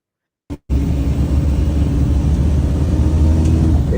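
A Machu Picchu bus climbing the mountain road from the train area into the cloud forest, a steady loud engine drone starting after a brief silence and short thump, continuing evenly without talk.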